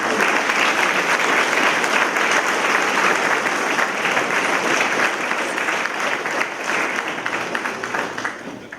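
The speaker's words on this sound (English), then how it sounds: "Please give your parents, family, and friends a round of applause and thanks for their sacrifices." Sustained applause from a large audience at a Citadel class ceremony, dense steady clapping that holds at full strength for several seconds before easing slightly toward the end.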